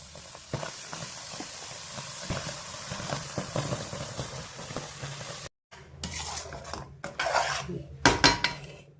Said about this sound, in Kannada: ಇವಾಗ ಈ ರುಬ್ಬಿಟ್ಕೊಂಡಿರೋ ಪೇಸ್ಟ್ನ ಇದಕ್ಕೆ ಹಾಕೋತಾ ಇದ್ದೀನಿ